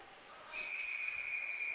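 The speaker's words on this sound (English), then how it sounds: "that's a really long, loud whistle" A referee's whistle at an ice hockey game, varsity level, sounds one long, loud, steady blast that starts partway in and holds to the end over faint arena murmur.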